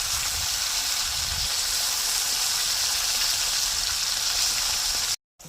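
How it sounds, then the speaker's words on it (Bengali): Small pond fish fry crisp in hot oil in a pan, a steady, dense sizzle that holds evenly and loud throughout before cutting out briefly at the very end. "এই মাছগুলি নরম হয় তাই একটু কড়া করে ভেজে নেবো"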